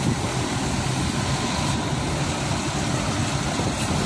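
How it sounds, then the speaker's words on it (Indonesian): Engines of a long queue of tour buses idling at a ferry port dock, a continuous low diesel rumble with steady broadband noise and no distinct pass-bys. "Ini rombongan bus Sumbar udah pada ngantri ya."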